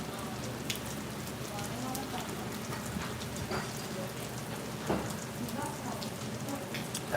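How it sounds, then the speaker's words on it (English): Heavy rain falls outside a Tokyo café in Ikebukuro, a steady wash of drops hissing on the street beyond the window, with occasional louder splashes and faint indoor sounds mixed in. "Kind of see outside, it's really raining."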